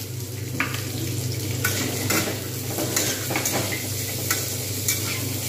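Potatoes and green peas fry in an oiled wok for sago pulao, giving a continuous close sizzle broken by repeated scraping and clanking stirs of a utensil against the pan.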